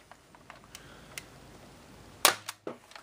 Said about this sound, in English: Try to get some good shots to this chronograph.